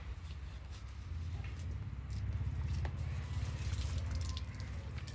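Tap water runs steadily into a tub being filled for a dog's bath, a soft continuous rush with a low rumbling undertone and faint drip-like ticks, fairly quiet and unbroken.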